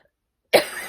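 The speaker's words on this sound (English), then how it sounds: "Sorry, I need to cough." One sharp cough rings out close to the microphone after half a second of silence, then trails off, with a second cough just starting at the very end.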